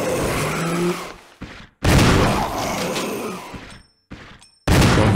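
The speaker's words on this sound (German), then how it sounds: "Oh nein, jetzt hast du einen Schuss verballert." Loud bursts of gunfire in Resident Evil Remastered, several sharp blasts with abrupt cut-offs and brief silences between them.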